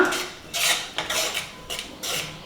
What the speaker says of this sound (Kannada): ಈಗ ಇದೆಲ್ಲದೂ ಹಾಕಿಬಿಟ್ಟು ಚೆನ್ನಾಗಿ ಮಿಕ್ಸ್ ಮಾಡ್ಕೊಳ್ಳೋಣ